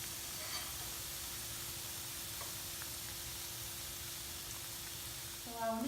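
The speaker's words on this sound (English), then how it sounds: "So you just fry them off." Dahi vada lentil dumplings fry in hot oil, giving a steady, close broadband sizzle and hiss that continues evenly throughout, with a faint voice and a light clink near the end.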